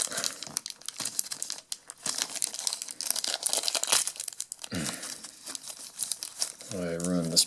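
The foil wrapper of a 1992 Fleer football jumbo card pack crinkles and tears up close, a steady loud rustling with crunchy bursts and brief tearing, while someone talks over it.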